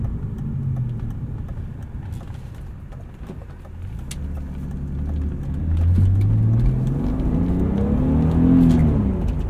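A 1999 BMW E36 M3 accelerates on the road, its engine note rising and climbing through the revs in a steady, full drone, heard from inside the car with faint road noise and no talk.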